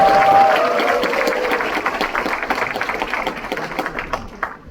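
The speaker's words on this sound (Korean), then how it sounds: "한 번만 좀 격려의 박수 한번 올려줄까요" A political event audience applauds, a dense burst of clapping that thins out and fades over a few seconds.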